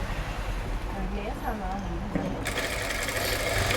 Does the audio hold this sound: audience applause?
no